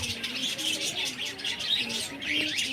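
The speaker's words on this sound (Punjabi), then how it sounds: "ਇਹ ਹਨ ਜੀ ਰੰਗ ਬਰੰਗੀਆਂ ਚਿੜੀਆਂ" Small, colourful birds at a zoo chirp and tweet continuously in a busy, overlapping chorus, with a few lower cooing calls underneath.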